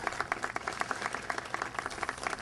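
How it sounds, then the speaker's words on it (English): A small crowd at a Veterans Day ceremony claps for relatives of World War I veterans. Individual claps stand out in a sparse, uneven patter, faint and somewhat distant throughout. "A round of applause for these."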